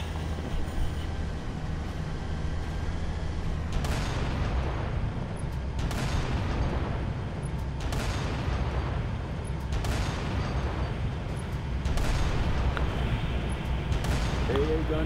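Tank cannon in the Halo video game fires heavy booms about every two seconds, six blasts in all, over a constant low battle rumble.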